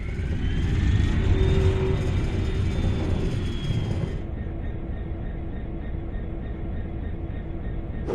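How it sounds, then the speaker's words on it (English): A locomotive diesel engine starts up in the Train Sim World game. It builds into a loud rumbling roar that drops off after about four seconds and settles into a steady, quieter idle hum. "Use the engine start button on the desk, then wait for the engine to get running"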